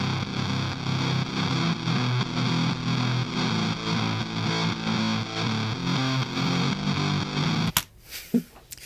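Heavily distorted, fuzzy electric guitar chugging steadily in a dense, gritty wash, ending abruptly with a few faint clicks and handling noises.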